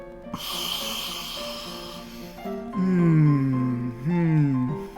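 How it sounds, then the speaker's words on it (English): A long, breathy inhalation through the nose close up, sniffing Dark Horse Cabernet wine in a glass, followed by low humming vocal sounds that rise and fall. "Let's take a sniff."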